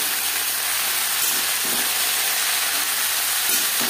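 Cauliflower drops into a pan of oil already frying with cumin and green chili, giving a loud, dense, continuous sizzle and hiss up close with no talking.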